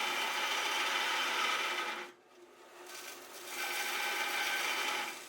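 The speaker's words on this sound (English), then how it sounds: "In operation, the motor's pretty quiet. I can stall this motor out when I'm grinding." Bucktool 1x42 combo belt and disc grinder running while grinding, a steady abrasive rasp and motor hum that drops off briefly as contact eases, then resumes at full strength.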